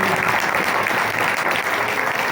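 A church congregation claps loudly and steadily during a Christmas sermon, dense continuous applause filling the whole moment without a break.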